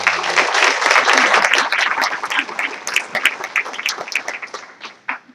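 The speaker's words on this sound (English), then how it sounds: "Let's please give them a round of applause for all this." A room full of people at a DeSoto County school board meeting applauds, loud and dense at first, then thinning into scattered individual claps that fade toward the end.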